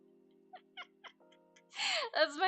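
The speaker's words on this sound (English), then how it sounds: "kitty cat." A pet cat meows in a few short calls, close by, with a low steady hum in the background.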